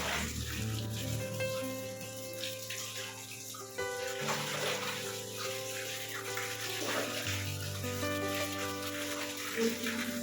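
Water pours steadily from a tap into a tub while clothes are washed, continuous splashing and gurgling with shifting flow and occasional sloshing, close and fairly loud.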